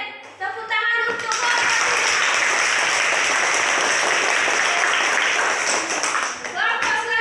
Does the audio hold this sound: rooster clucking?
no